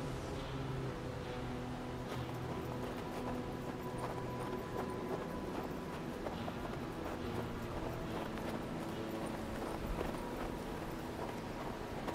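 Steady clip-clop of horse hooves in the video game Hard West 2, a continuous riding rhythm under a cold, wind-swept backdrop with no talking.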